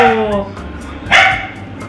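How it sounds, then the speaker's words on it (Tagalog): A single sharp dog bark close by, after a brief moment of a voice at the start. "Ay, ang ingay ng aso ko."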